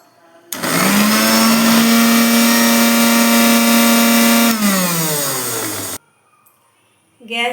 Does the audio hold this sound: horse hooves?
no